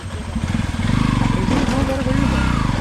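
A motorcycle engine revs and labours close by on an off-road trail near Mankayam Waterfalls, Kerala, a loud throbbing rumble rising in pitch, with voices heard over it.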